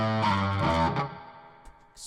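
Electric guitar played through an overdrive drive pedal, ringing out loud and distorted for about a second, then decaying into a fading tail.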